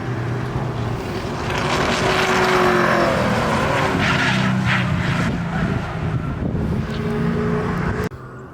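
A Foxbody Mustang race car drives hard at the Road Atlanta circuit during Global Time Attack. The engine note is loud and close, rising and falling through the revs, with tire and wind roar, before the sound cuts off sharply near the end.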